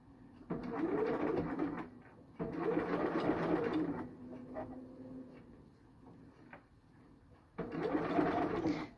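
Sewing machine stitching an invisible zipper, running in three steady bursts separated by short pauses, with the motor whirring at moderate volume and no voices.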